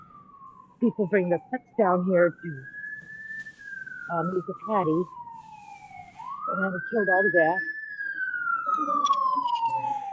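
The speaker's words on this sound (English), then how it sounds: "Hey, that was a fire truck, not a police car." A fire truck siren wails on a Milwaukee street, rising and falling slowly across the scene, while a person talks over it nearby.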